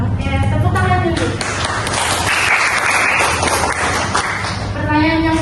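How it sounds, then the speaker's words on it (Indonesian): Hands clapping together in a classroom, a steady dense patter of applause running the whole time at close range, with students' voices mixed in over it. "Oke, tepuk tangan dulu."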